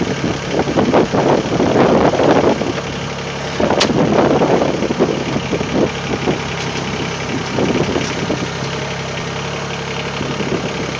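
A Mahindra eMax20s HST compact tractor with a backhoe attachment idles while backing up, its diesel engine running in a steady, close rumble with slight rises in load and faint clunks throughout.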